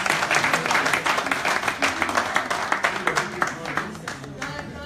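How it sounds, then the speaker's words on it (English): Audience applause at an event, a crowd clapping with distinct, fairly sharp individual claps forming a loose rhythm, with some voices talking over it. "One round of applause."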